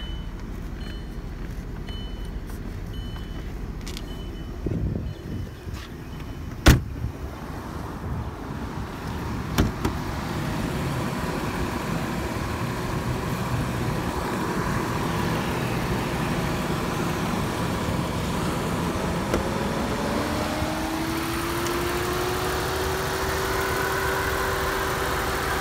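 A 2005 Audi Allroad Quattro idles with its air conditioning blowing, a steady low engine hum under a rushing fan, with a few clicks and knocks early and a rising whine near the end.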